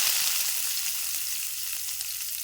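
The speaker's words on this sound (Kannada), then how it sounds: "ಈ ಉಳ್ಳಾಗಡ್ಡಿ ಒಂದು ಸ್ವಲ್ಪ ಫ್ರೈ ಮಾಡ್ಕೊಳ್ಳೋಣ ನೋಡಿ ಕಡಿಮೆ ಎಣ್ಣೆ ಹಾಕಿ" Long-cut onions sizzling in a little oil with black peppercorns and cinnamon stick for a kadai paneer masala, a steady close crackling hiss with a few stirring scrapes and no talk.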